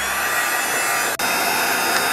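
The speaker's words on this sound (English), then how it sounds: "I decided to use the heat gun real quick, guys, so it's going to be a little bit noisy" Heat gun blowing hot air to dry a handmade Halloween potions book, a steady loud broadband whoosh that runs throughout with one momentary dip partway through.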